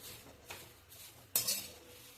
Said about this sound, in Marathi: मी हे असे पातळ पोहे छान भाजून घेणार आहे कढईमध्ये